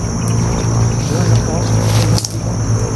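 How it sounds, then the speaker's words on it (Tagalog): Engines hum steadily from a nearby highway, a continuous droning motor sound with passing variations, heard close and fairly loud under a person speaking. "Ngayon tol, medyo malakas na yung mga andar ng motor."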